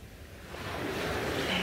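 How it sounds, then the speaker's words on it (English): Soft sea waves wash in gently, a low rushing swell that rises slightly toward the end, calm and unhurried. "The sea is so calm, the waves are very quiet, but you can hear them as they move gently and calmly"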